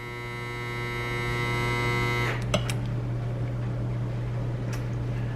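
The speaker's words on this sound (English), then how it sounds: "Well, there's my dryer." A home clothes dryer runs with a steady low hum and harmonic whine, loud and continuous, before a thump and the tone dropping away into a broadband tumbling rumble as the machine keeps going.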